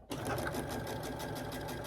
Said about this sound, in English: I'm going to take this over to my sewing machine, sew it, and I shall be back.